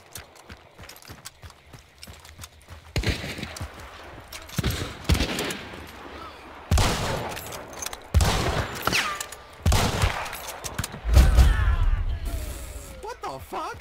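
Gunfire in Hunt: Showdown, a few loud broadband shots spaced irregularly through the clip, some near and sharp, with quieter clanks and rattles between them and faint talk underneath.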